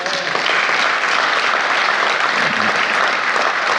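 A church congregation applauding, a loud, dense burst of clapping from many hands that holds steady and close throughout.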